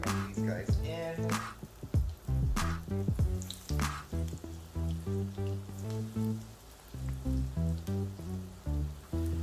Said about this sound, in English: fry them up in this vegetable oil